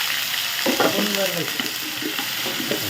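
Vadagam, a sun-dried seasoning ball, fries in hot oil in a pan for a fish curry, giving a steady, close sizzle with stirring scrapes and spoon clinks. No voices are heard.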